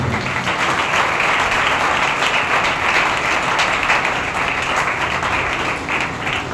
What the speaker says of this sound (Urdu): آئیں یسوع کے لیے زوردار تالیاں